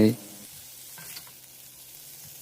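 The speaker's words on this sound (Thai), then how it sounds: "กระทะใบเดิมใส่ไข่ไก่ลงไปสองฟองครับ" Soft, steady sizzling of two eggs frying in a hot wok, fairly quiet, with a brief louder clatter at the start and no voices.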